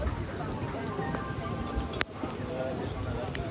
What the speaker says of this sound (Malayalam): മഴ കാരണം ആർക്കും പ്ലാറ്റ്ഫോമിൻ്റെ ഈ ഭാഗത്തേക്ക് വരാൻ പറ്റുന്നില്ല.